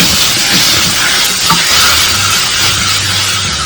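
Chicken pulao frying in a cooker as curd is stirred in, a loud, continuous sizzle and hiss with scraping stir sounds, close and without talk.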